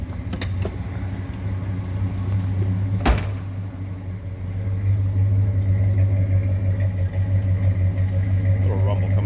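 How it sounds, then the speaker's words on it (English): A 1966 Ford Fairlane 500 GT convertible with a 390 V8 and four-speed manual idles in neutral, a steady low rumble heard close from the rear of the car, with one sharp knock partway through. "Little rumble coming out of that 390."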